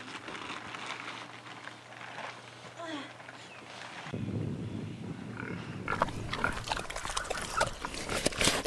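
Pigs on a farm grunting and oinking, with a dog present and footsteps nearby; sounds start faint and sparse, then grow louder and busier in the second half.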